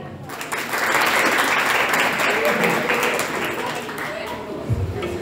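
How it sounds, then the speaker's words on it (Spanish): Sustained audience applause fills a school graduation ceremony in La Joya, a dense steady clapping crowd that swells after a moment and holds loud throughout, with a low thump near the end. "Un fuerte aplauso para él."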